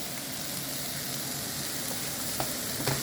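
Green and red peppers sizzle in a pan with chicken and diced garlic during a stir fry, a steady close hiss of frying with a few faint clinks from stirring and no voices.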